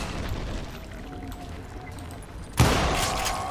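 A single loud gunshot or blast booms in the Call of Juarez: Gunslinger game and leaves a lingering crackling tail. Before it there is quieter ambient game noise.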